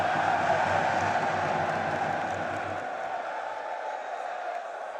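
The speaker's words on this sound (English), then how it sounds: "This crowd is roaring." A large esports arena crowd at a Counter-Strike grand final roars in a dense, sustained wash of cheering that gradually fades a little over several seconds.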